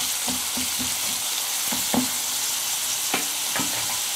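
Chopped onions softening in hot oil in a pan for rasam, giving a steady close sizzle with a few light taps and scrapes of a stirring spoon.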